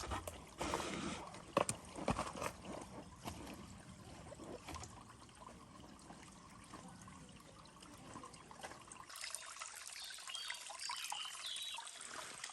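A small mountain waterfall in Stara Planina trickles and splashes softly as water is collected at a wild campsite, faint and close, with intermittent handling noises.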